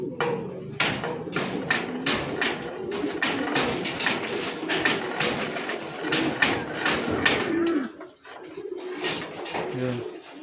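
Pigeons at a racing loft coo in soft repeated calls amid sharp clattering knocks and flapping, with people talking nearby.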